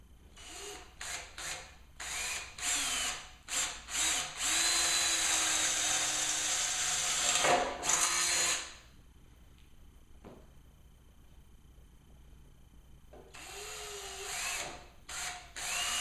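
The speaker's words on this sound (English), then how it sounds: "Sometimes what can happen when you drill your pilot holes" A power drill bores pilot holes in a Jeep during a build. Short stuttering bursts are followed by a longer steady run of motor whine with rubbing and cutting noise, then a quiet gap and a final burst, all close by.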